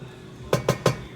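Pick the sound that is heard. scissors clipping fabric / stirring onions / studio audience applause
stirring onions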